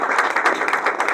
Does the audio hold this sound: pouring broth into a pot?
no